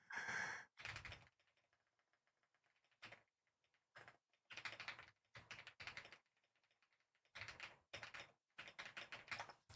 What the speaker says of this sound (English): It's a lot of typing. Sometimes you got to type a lot.